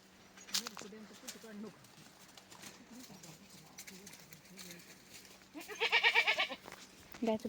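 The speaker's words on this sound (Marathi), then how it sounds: "तुम्ही शेळ्या बघित असतील बघा" Goats, including small kids and a larger adult, bleat at a farm. A few bleats come near the start, then a loud, close run of bleating near the end, with people talking at times.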